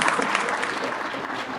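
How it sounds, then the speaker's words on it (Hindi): Applause from a comedy show audience, a short burst of steady clapping heard on its own, fairly close and dense, with no speech over it. "एक आध जने ने ताली बजाई"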